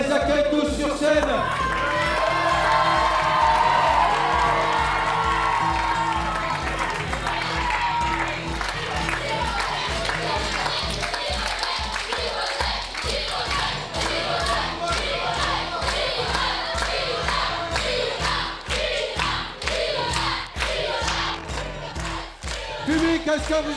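Audience at a national improv theatre final applauding and cheering as players walk onto the stage, a dense wash of clapping and crowd noise lasting throughout, with voices mixed in and a dense rhythmic pulse.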